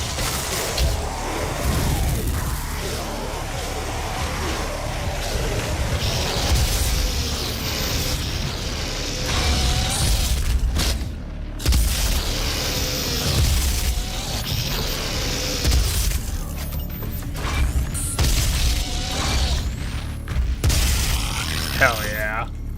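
Grenade explosions in the video game Doom 2016: heavy booms and bursts mix into dense mechanical game noise over continuous loud action, while a person talks throughout.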